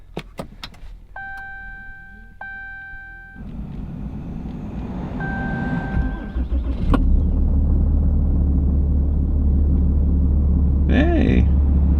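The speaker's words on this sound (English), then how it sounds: "let's see if the truck starts" A few chimes and beeps sound, then a truck engine cranks and catches in 22-degree cold during a Texas blizzard, settling into a loud, steady rumbling idle with a brief voice over it.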